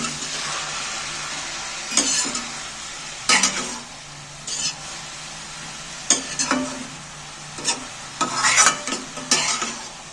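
Salted spinach is stirred in a hot pan, the spoon scraping in irregular bursts over a soft, steady sizzle, close and fairly loud.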